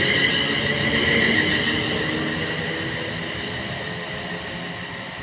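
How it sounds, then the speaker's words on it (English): A West Midlands Railway class 350 electric unit pulls out of Lea Hall station, its steady traction whine and rumble loud at first and slowly fading as it draws away. "the departure of 350-112, going out with the 12 o'clock West Midlands Railway service"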